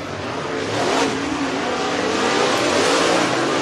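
Race cars at Duck River Raceway accelerate up to speed, a loud continuous engine roar that swells steadily and stays close for the whole stretch.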